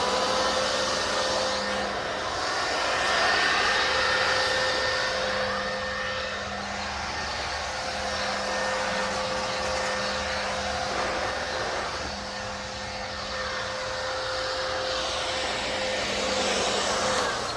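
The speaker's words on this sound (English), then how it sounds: "It's a Badger blower, and we're gonna see if this can blow this crap away." A Wild Badger 20V cordless leaf blower runs steadily at close range, a constant whooshing air roar with a high motor whine that swells and eases slightly as it blows cut weed debris outdoors.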